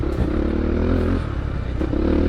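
A Ducati dirt bike on a dirt stage, its engine droning loud and steady with gear changes and brief revving swells, plus clatter and scraping from the ride.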